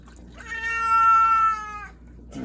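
Nugget, a tomcat being bathed in a hot tub, lets out one long, loud, rising-and-falling yowl lasting about a second and a half, close by and clear against quiet water sounds.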